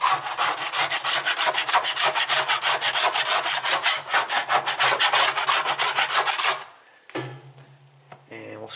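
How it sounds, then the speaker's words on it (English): A tool scrapes back and forth along the sides of a washing machine's outer tub in fast, rhythmic rasping strokes, close and loud, stopping before a short pause and a few scattered scrapes at the end. "scrape along the sides."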